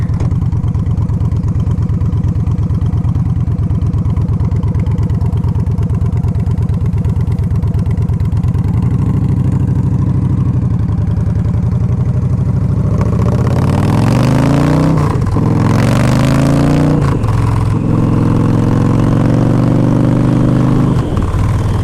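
2011 Victory High Ball bobber motorcycle engine, a loud close idle that rumbles steadily, then revs up and down in several rising bursts.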